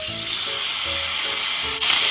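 Half bacon sizzling in melted butter in a hot frying pan produces a loud, steady, close hiss throughout, with faint tonal notes underneath and a brief dip just before the sizzle surges again.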